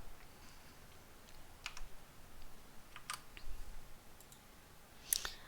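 A computer mouse gives scattered single clicks with a few soft keyboard taps between them, close and quiet in an otherwise still room.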